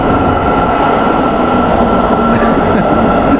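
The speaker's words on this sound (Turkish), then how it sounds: "şu anda beklediğimiz metro geliyor" A metro train pulls into a station in Kazakhstan, a loud steady rumble of rolling cars with faint wheel squeal and rattling, close by and unbroken.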